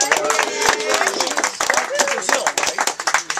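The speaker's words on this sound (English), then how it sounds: "So big round of applause for Sugar Plum." Applause and scattered clapping from an audience at a camp meeting, mixed with cheering voices and chatter, dense and fairly loud throughout the short stretch.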